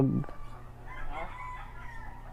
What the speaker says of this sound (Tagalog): buhay na manok